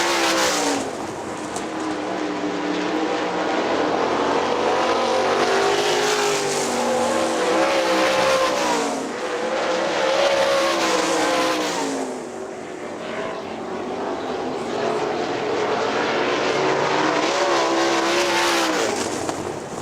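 Sprint race cars roar around the Hartford Speedway Park oval in a Great Lakes Outlaw Sprint Series race, engines rising and falling as the field passes, loud and continuous with pitch sweeps as cars go by.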